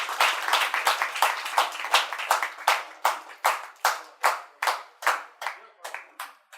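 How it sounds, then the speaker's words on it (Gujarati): Audience clapping at a storytelling event, a burst of dense applause that thins into a dozen or so slower, separate loud claps near the end. "ફરી એકવાર જોરદાર તાળીઓ થઈ જાય."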